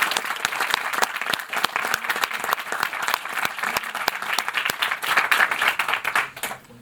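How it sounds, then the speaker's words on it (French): Steady, strong audience applause greets a juror at a mock trial of Robin Hood. Many hands clap continuously for nearly seven seconds before it tapers at the end. "Je vous demande d'applaudir Maître Barra."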